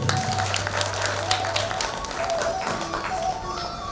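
Applause from an audience at a Bhagwat Katha religious discourse, a dense burst of clapping that carries on for several seconds, close and fairly loud over a low hum.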